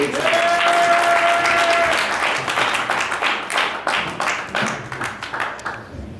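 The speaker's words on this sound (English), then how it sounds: "Round of applause for Yanni." An audience at a boxing press conference applauds the venue owner, a bright burst of clapping that starts full and gradually thins into scattered claps as it dies away.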